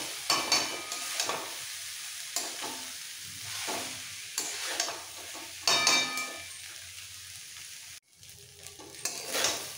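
A spatula stirs spinach rice in a hot pan, giving soft scraping strokes over a faint sizzle in irregular bursts, close and moderately loud, with no talking.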